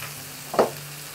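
Chicken browning in a Dutch oven on a stovetop gives a short, soft sizzle that swells briefly and fades, over a low steady hum.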